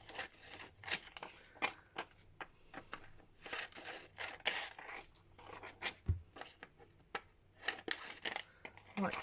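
Scissors trim paper around a frosted window in a handmade shop journal, giving quiet, close snips and crisp paper rustles in an irregular rhythm, with a person talking softly over them.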